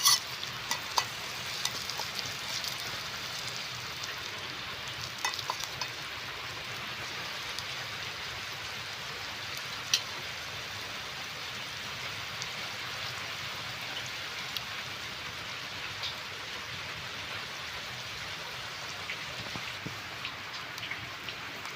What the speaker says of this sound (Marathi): आता हे कांदे आपण तेलामध्ये टाकले आहे चांगले भाजून घ्यायचे आहे